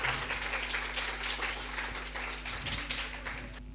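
At an English language seminar, an audience claps steadily as a student speaker is called to the dais, a soft even patter of applause over a low hum.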